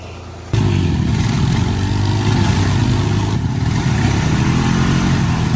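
A worn Honda ATV engine revs and strains, jumping abruptly from a quieter idle to a loud, sustained, labored roar with some wavering, close to the microphone.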